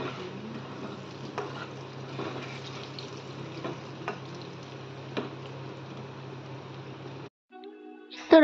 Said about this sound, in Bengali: এই পেঁয়াজটাকে ভেজে নিচ্ছি